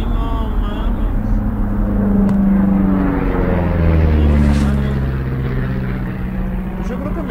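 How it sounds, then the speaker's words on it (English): A propeller airplane flying over in the game Firewatch, a steady droning engine that swells and slowly fades as it passes, with voices talking over it. "You see that plane?"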